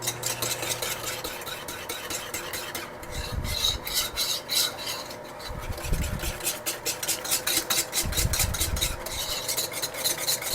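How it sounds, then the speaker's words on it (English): A whisk beating cocoa fudgesicle mixture to break up lumps, a fast rhythmic scraping and clinking against the bowl, close and continuous with brief changes in pace. "We're going to whisk this together to get the lumps out."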